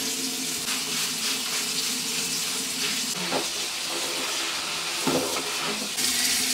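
Tap water runs steadily into a sink while a weave is rinsed out, a continuous broadband splashing hiss that holds evenly, with a couple of brief louder splashes near the end.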